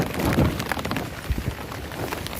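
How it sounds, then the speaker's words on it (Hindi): Rain patters steadily on a farm in a village while wind gusts and rumbles against the microphone, with a low thudding burst partway through. "देखो बारिश भी हो रही है और हवा भी चल रही है"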